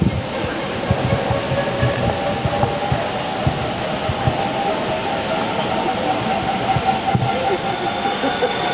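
A hydro turbine at the Halton Lune hydro scheme slowly speeds up until its generator trips online: a steady rushing, rumbling drone with faint tonal whine lines over continuous water noise, moderately loud with occasional knocks.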